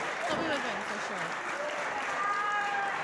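A wrestling crowd at a women's wrestling event applauds and cheers steadily throughout, a dense, loud wash of clapping with some voices mixed in.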